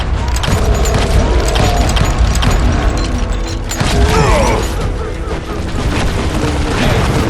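A Call of Juarez Gunslinger shootout, with dense rapid gunfire and booming shots layered over continuous loud action, and voices shouting amid the barrage.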